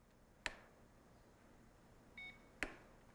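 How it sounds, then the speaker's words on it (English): A faint electronic beep tone from a Jura Impressa Z5 coffee machine sounds briefly amid two sharp clicks as the rotary dial is pushed and held, quiet and close in an otherwise still room. "Push and hold the rotary dial until it beeps."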